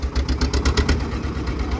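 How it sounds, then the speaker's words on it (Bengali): A motor boat engine runs on the Damodar River, a low rumbling drone with a rhythmic pulsing throb in the first second that then settles into a steadier hum. It sounds close and moderately loud, with voices mixed in. "নৌকার ইঞ্জিন চালু হয়ে গেছে, এরপরে নৌকা স্পিড নেবে"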